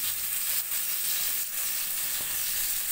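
Eggplant slices frying in hot oil, giving a steady, close, continuous sizzle with no break.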